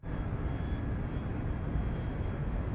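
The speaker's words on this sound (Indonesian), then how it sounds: "Lalu Gary menyuruh pada kopilot untuk mengarahkan pesawat ke tempat penelitian tersebut." An airplane in flight from the film World War Z, heard as a steady, dense engine drone and cabin rumble, constant and fairly loud throughout with no talk.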